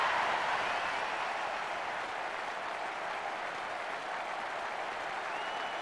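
In the ISS 98 football video game, a stadium crowd keeps up a dense, steady roar of cheering and applause after a goal, broad and continuous with no individual voices standing out.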